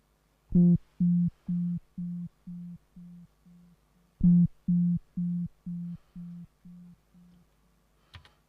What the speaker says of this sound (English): Oh, I've changed it to sine.